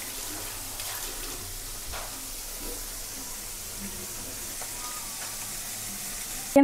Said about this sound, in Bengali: এই যে এখন মাছগুলো ভাজি করে নেই